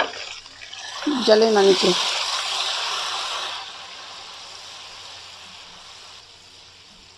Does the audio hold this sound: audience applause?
no